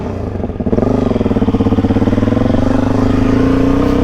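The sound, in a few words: Suzuki DRZ400E motorcycle with Lectron Billetron Pro carb riding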